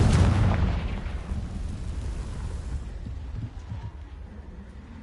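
Confringo fire spell exploding in the video game Hogwarts Legacy, a loud booming blast at the start that decays into a long rumbling fade.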